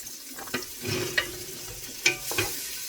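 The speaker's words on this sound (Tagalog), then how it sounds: "So, magigisa tayo ng bawang." Garlic and ginger sauté in a pan for Filipino chicken tinola, a faint oily sizzle broken by a few sharp scrapes and clinks of a utensil stirring, close and quiet.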